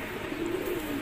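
A local pigeon gives a short, soft, throaty coo, close by and heard alone.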